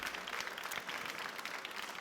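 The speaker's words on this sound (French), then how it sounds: "Vous pouvez les applaudir très très fort," An award ceremony crowd claps and applauds continuously, a dense, faint wash of hand claps with no pauses.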